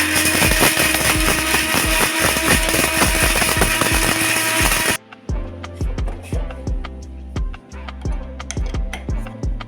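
A mixer grinder whirs loudly for several seconds, then its harsh roar drops to a lower rattling spin, grinding dry roasted spices to powder in short bursts.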